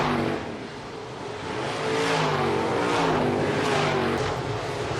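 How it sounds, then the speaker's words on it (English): IMCA Modified race cars roar down the front straightaway of a racetrack, engines loud and rising as the pack sweeps past, with no talk. "the Dubuque, Iowa hot shoe, Jeremiah Hurst, out front in the 21M car down the front straightaway"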